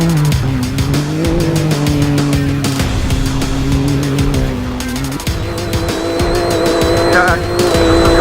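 UTVs racing at the UTV World Championships, engines droning loudly and shifting pitch as they rev, with tire noise and rough mechanical rattle throughout, close and continuous.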